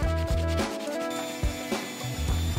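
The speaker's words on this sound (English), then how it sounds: "I also went ahead and got the Dremel out to shape the claws and the teeth to a more organic shape" Dremel rotary tool shaping the claws and teeth of a raptor sign, giving a steady whining grind in close, uneven bursts as the bit is pressed and eased, with no talk over it.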